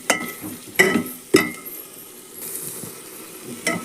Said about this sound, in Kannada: ಎಣ್ಣೆ ಒಳಗೆ ಫ್ರೈ ಮಾಡೋಣ ರೀ